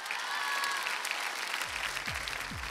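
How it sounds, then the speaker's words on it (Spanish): Studio audience applause on a Mexican television show, a steady broad wash of clapping that fills the clip, with a few low swooping electronic tones entering near the end. "Para ellos, por favor, un aplauso."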